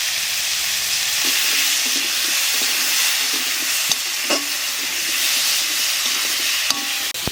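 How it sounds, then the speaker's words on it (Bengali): Potatoes with salt and turmeric fry in a hot pan, giving a steady close sizzle while they are stirred, with scraping and occasional sharp clinks of the utensil. "আলুটা একটু বাজিয়ে নিলাম"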